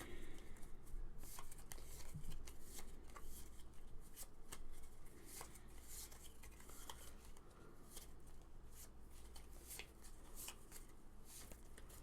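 Playing cards are shuffled over and over for a Pandemic Legacy Season 2 board game, a faint run of quick riffling bursts and soft slaps at the table, with no talking.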